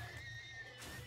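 A horse in a video game, set during a fight against a Wither, gives a short whinny, a quick high squealing neigh that sounds alone and fairly close.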